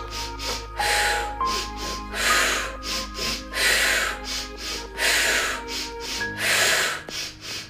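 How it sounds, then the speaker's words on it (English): Sharp double sniffing inhales in a Pilates abs and glutes breathing exercise, repeated in a steady rhythm of quick paired sniffs, close and clear, with faint background music. "Double inhale, sniff, sniff, switch."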